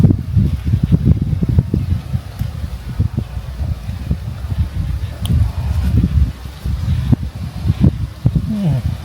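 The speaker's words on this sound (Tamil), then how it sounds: "காற்று செம்மையாக இருக்குது." Strong outdoor wind buffets the microphone during a wild honey hunt, a continuous low rumbling roar with gusty surges throughout and faint voices in the background.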